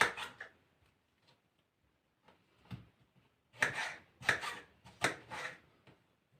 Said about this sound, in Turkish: Şimdi diğer domatesimizi doğrayalım.